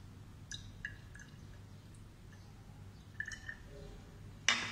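Water is added drop by drop to a test tube during a chemistry demonstration on reactant concentration, giving a few faint, sparse drips and small splashes over a quiet background, with a sharper clink near the end.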